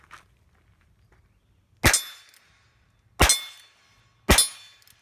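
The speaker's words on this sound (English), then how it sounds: "Now I'm going to flip it to fire, and let's take some shots at the targets." Three sharp, loud cracks from a Heritage Rough Rider .22 caliber revolver fired at targets, spaced about a second or more apart, each ringing briefly before fading, with near silence between.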